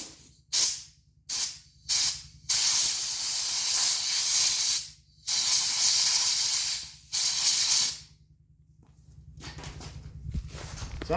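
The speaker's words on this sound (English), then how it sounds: "Sometimes a good air compressor is all you need to get this back going again." Compressed air blasts out of a clogged grease fitting in loud, close hissing bursts, several short ones then longer sustained blows with gaps between, ending in quieter handling noise.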